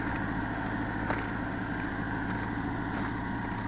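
A Caterpillar backhoe engine idling quietly, a low, even mechanical hum with a steady drone and no change in pace, faint and unbroken for the whole stretch.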